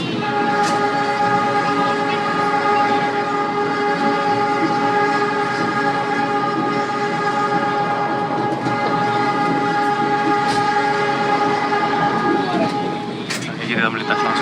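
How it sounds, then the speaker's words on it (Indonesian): A locomotive horn blares in long sustained blasts, heard from a passenger car riding right behind the locomotive, over a steady rumble of rail and wheels while a voice talks over it. "Sensasi di belakang lokomotif pas persis. Wang wong wang wong. Kenyang sama suara buong."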